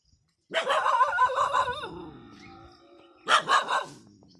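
A dog barks at newcomers in a cotton field, giving a run of barks up close, a brief pause, then another short burst of two or three barks, with no talk over them.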